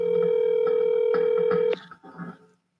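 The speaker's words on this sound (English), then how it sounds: "I'll call Damon." Telephone dialing out for a call: a steady tone with periodic keypress-like blips runs loud and close, then cuts off into a few brief quieter clicks and tones before silence.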